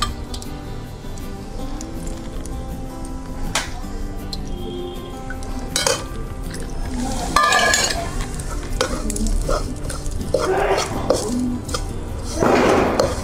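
Ghee goes into roasted gram flour in a pan, and a ladle stirs it with soft sizzling, scraping and occasional clinks against the metal, close and continuous.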